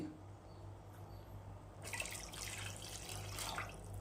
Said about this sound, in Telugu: అదే గ్లాస్తో 2 గ్లాసెస్ వాటర్ పోయాలి